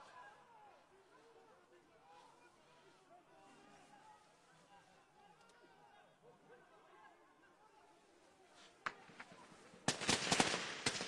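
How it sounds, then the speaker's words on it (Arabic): Murmuring voices and faint distant noise, then sudden loud bursts of rapid live gunfire crack out near the end, in quick overlapping volleys, during a raid on Silwad. "إطلاق كثيف للرصاص الحي متابعينا"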